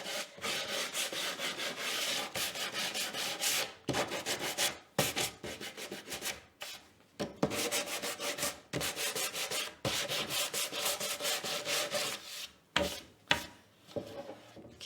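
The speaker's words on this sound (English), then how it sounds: "we're gonna take some sanding and we're gonna sand on our edges" Hand sanding along the edges of a painted, stenciled wooden porch sign, with steady rhythmic rasping strokes in bursts broken by brief pauses, close and fairly quiet, with no talk.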